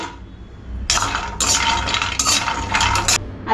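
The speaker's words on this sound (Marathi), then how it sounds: "काजू भाजून घेते." Cashews roasting in a pan for rava ladoo, with metal spoon scraping and clinking against the pan in several close, bright bursts of dry stirring.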